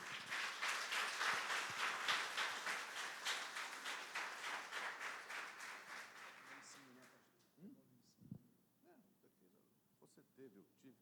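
A congregation at an evening church service in Brazil claps together in a steady, rhythmic applause that fades after about seven seconds, leaving a few voices and scattered sounds.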